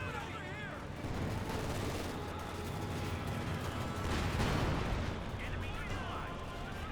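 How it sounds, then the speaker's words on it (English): Artillery barrage in Company of Heroes 2, a dense rumble of distant gunfire and explosions rolling continuously beneath a commentator's voice, swelling slightly toward the middle. "And some sort of artillery barrage."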